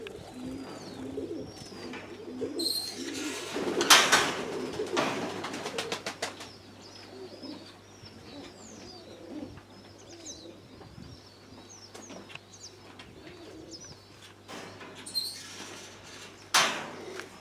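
Domestic pigeons cooing in a loft, soft low coos repeated throughout with a few louder bursts of wing flapping and rustling, no talk.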